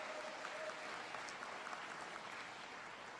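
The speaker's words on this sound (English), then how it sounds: "give yourselves a big round of applause" A crowd at an outdoor yoga day gathering claps together, a soft, even patter of many hands heard from afar, steady and unbroken.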